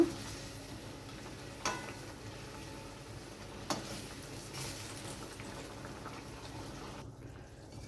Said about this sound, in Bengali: মাছগুলো আমি ভালো করে গ্রেভির সাথে মিশিয়ে নেব